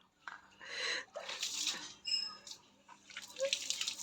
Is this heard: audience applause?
no